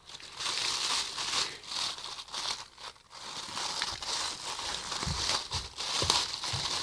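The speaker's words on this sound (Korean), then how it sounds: "부스럭 소리는 죄송해요." Crinkly plastic wrapping around a pack of Daiso paper cups rustles and crackles continuously up close as it is opened with scissors, with bursts of louder crumpling and no talking.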